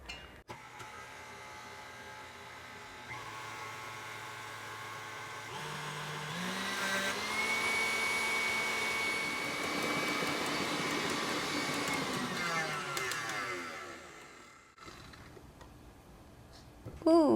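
An electric mixer whips egg whites to stiff peaks for a keto cheddar and chive roll, giving a steady, close motor whir with rising and swirling beater noise that grows fuller midway before easing off.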